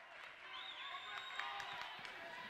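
A crowd cheers and roars at a girls high school basketball game between Durfee and Brockton, a steady dense wash of noise with sharp shoe squeaks and shouts poking through for a couple of seconds.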